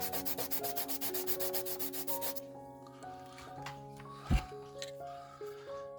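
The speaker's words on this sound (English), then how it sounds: "So sanding this way." Rhythmic scratchy rubbing of sandpaper on a small model part for a war rig model, fast regular strokes for a couple of seconds, then quieter scraping with background tones and a brief thump.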